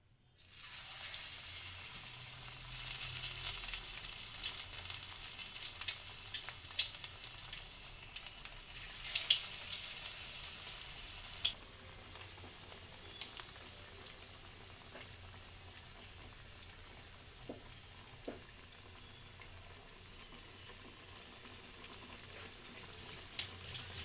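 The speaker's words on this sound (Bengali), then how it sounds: "তেল গরম হয়ে গিয়েছে, এবারে আমি বড়াগুলো ফ্রাই করে নেব।" Spinach-lentil fritters frying in hot oil in a kadai give off a steady crackling sizzle with fine pops and spatters, livelier at first and then settling into a softer, continuous fizz.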